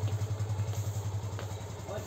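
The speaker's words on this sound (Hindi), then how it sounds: "देख लो अगेन ये फिर से चला रहे हैं बाइक" A motorcycle being ridden gives a steady, fast, rhythmic engine throb, even and moderately loud, continuing throughout.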